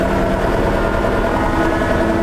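A new, not yet run-in DTZ 504 KKU tractor engine roars loud and close, a continuous heavy rumble held steady throughout with no speech.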